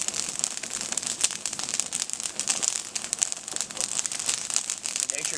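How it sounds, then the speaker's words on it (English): Dense, irregular crackling and popping from a campfire, many quick snaps over a constant hiss, fairly close and lasting throughout. "This stuff crackles great."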